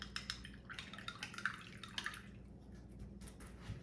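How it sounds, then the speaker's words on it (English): A paintbrush is rinsed in a small container of water, producing faint, close, rapid dripping and light swishing splashes that settle into quiet trickles. "if I rinse my brush off"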